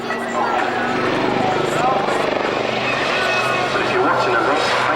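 Lynx helicopter flying at an Army Air Corps airshow at Middle Wallop, a steady continuous rotor and engine drone at moderate distance, with a commentator talking over it throughout.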